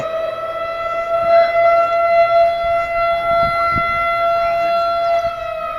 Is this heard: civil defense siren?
yes